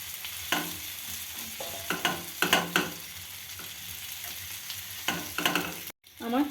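Chicken tandoori pieces fry in mustard oil with a continuous soft sizzle, broken by repeated scraping and turning strokes and a brief sudden dropout near the end.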